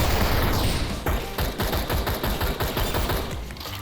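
Dense, rapid automatic gunfire in a VR shooting video game, a loud continuous rattle of overlapping shots that keeps pounding for several seconds with barely any pause.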